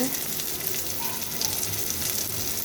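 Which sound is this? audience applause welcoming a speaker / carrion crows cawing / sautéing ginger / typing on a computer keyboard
sautéing ginger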